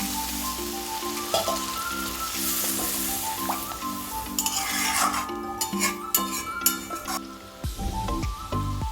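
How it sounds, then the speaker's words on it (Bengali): Water goes into a pan of frying spice paste for a prawn malai curry, giving a busy sizzle and crackle with metal spoon clinks and a rattling burst near the end. "এরপরে আমি হালকা করে জল দেব"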